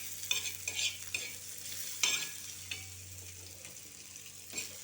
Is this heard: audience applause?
no